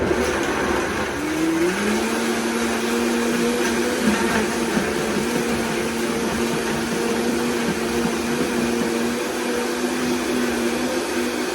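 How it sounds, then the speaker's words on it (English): Blender whirring as it mixes immune booster ice cube ingredients, heard as a loud, steady motor drone that rises in pitch early on as the speed is turned up, then holds continuously with no talk. "let me go ahead and turn this on. Get it going, mix it up. I'm gonna turn it up."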